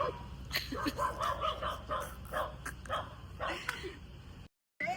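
Small dogs yip and bark in quick, high-pitched bursts close by, with whimpers and breathy sounds between them.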